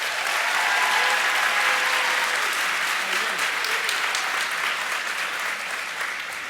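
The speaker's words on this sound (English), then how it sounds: "I just want everyone to give Ibn Ali Miller one last huge round of applause" A large crowd at the iLEAD 2018 event gives Ibn Ali Miller loud, sustained applause that fills the whole stretch and tapers slightly toward the end.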